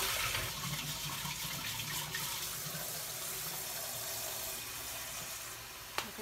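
Steady rushing water pours from a kitchen tap while waiting for hot water, a continuous hiss close by with a faint clink near the end.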